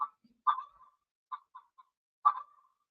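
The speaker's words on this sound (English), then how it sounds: "There goes the chicken." A chicken gives a few short clucks in separate bursts, with small pauses between them; nearby and fairly faint, with no talking.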